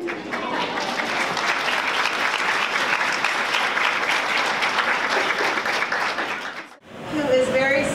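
Conference audience at a rabbit agility and clicker training talk bursts into sustained, even applause that stops abruptly near the end, followed by a brief spoken voice.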